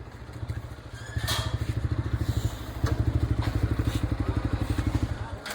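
A motorcycle engine idles nearby with a steady rapid thumping putter that rises, dips briefly, then fades at the end.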